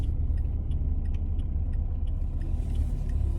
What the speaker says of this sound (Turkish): D konumunu alıyoruz. El frenimizi çekiyoruz ve yola çıkıyoruz.